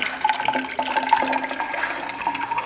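Water gushes and splashes steadily from an old pedal-operated church drinking fountain, a close continuous rushing with gurgling bubbles.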